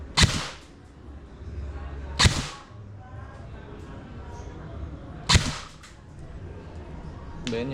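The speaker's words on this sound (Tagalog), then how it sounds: "Then yung full auto, testing natin full auto. Napakalakas." An E&C M110 SASS airsoft AEG fires four sharp, isolated snapping shots, spaced a couple of seconds apart, over a low steady background hum.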